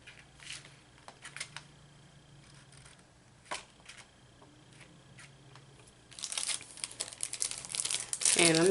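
Double-sided tape handled at a craft table while making a winter-themed shaker card: soft ticks and rustles give way to a loud, sustained crinkling and peeling of the tape's backing near the end.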